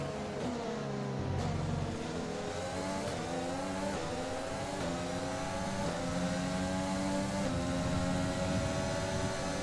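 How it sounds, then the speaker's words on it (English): Simulated Formula 1 race car engine from F1 2020, struggling and laboring, a continuous loud drone with rising and falling harmonic pitch sweeps as revs climb and drop, heard alone without talk. "The engine is really struggling here. Oh, it sounds like it's really struggling."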